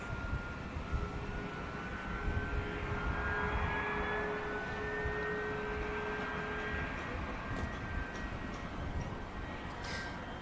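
Navy Wings-operated warbird arriving at the Royal International Air Tattoo, its engine drone steady and moderately distant over broad airfield noise, with a faint passing tone rising and fading across the scene.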